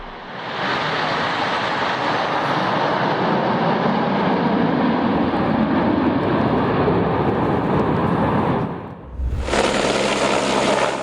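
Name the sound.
Red Arrows and Patrouille de France jets in aerobatic display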